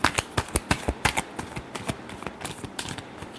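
Tarot cards are shuffled by hand in quick crisp riffling bursts, a rapid run of sharp flicks that slows and softens toward the end, close and alone with no talking.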